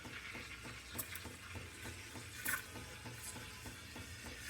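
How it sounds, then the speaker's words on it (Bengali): Heated milk for cappuccino being stirred in a pan, a quiet steady rhythm of soft swishing and faint bubbling repeating about twice a second, close by with no voices. "তুমি নাড়াচাড়া করছো বেশি, এজন্য বাবল উঠে গেছে"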